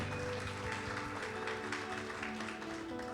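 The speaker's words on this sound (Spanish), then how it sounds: "Vamos a darle un aplauso." A church congregation applauds at a Sunday service, a steady, dense patter of many hands heard faintly and at a distance.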